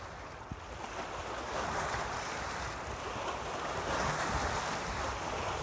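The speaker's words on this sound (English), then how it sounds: "listen to the splashing waves beneath the River Zen studio" Waves splash steadily beneath a riverside studio, a continuous, even wash of water with soft wind noise and no voices.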